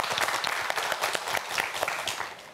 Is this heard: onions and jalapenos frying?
no